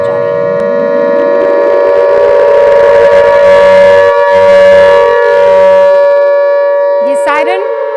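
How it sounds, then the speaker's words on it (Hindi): A loud, sustained wailing siren that rises at the start and holds a steady tone, with a brief higher warble near the end. "ये सायरन आप लोगों को आगाह करने के लिए है।"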